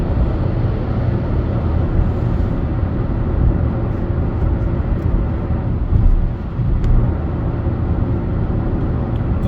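A car cruises along the M62 motorway, heard from inside as a steady, loud rumble of road and tyre noise with wind, continuous and even, with no talk.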